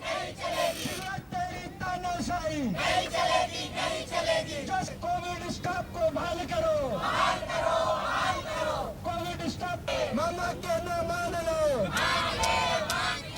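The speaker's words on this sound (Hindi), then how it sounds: "आयुष चिकित्सक, lab technician, nursing staff, paramedical staff समेत कई डॉक्टरों ने जोरदार प्रदर्शन किया है" Doctors, AYUSH physicians, lab technicians, nursing and paramedical staff protesting loudly in Madhya Pradesh, a dense crowd of voices chanting and shouting slogans together without pause, close and loud throughout.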